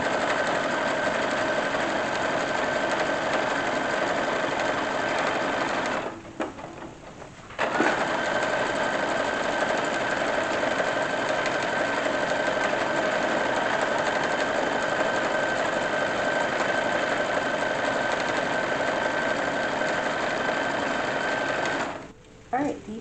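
A sewing machine hems a cotton summer sheet, a loud, steady motor drone with rapid needle chatter running continuously, pausing briefly twice before resuming.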